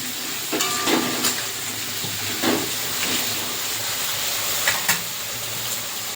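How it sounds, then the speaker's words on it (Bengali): Potatoes seasoned with salt and turmeric fry in hot oil in a kadai, giving a steady close sizzle and hiss broken by a few brief stirring scrapes. "যে আলুটা আমি ভেজে নিচ্ছি"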